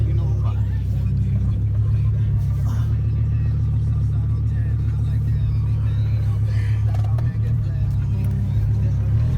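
A Volvo V70 XC wagon with an open header and straight pipe drives along, its loud, deep exhaust rumble filling the cabin continuously with small surges under throttle, while a voice talks faintly underneath.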